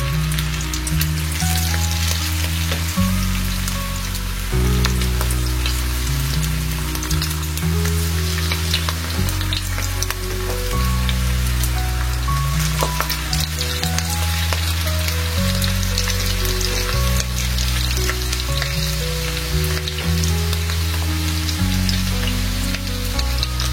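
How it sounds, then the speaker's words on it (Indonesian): Wonton dumplings deep-frying in hot oil give a dense, continuous crackle and sizzle for over twenty seconds, loud and close, while low tonal music plays underneath. "siapkan minyak panas dan langsung saja digoreng ya"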